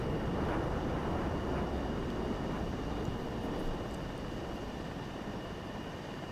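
A jet aircraft lands in the game Ace Combat 7 with a steady, broad engine and rumbling roar at moderate level. The roar eases slightly toward the end, and there is no talk over it.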